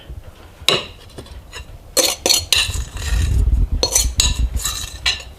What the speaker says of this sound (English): So I'm going to stir this for a little while until it combines. Wooden spoon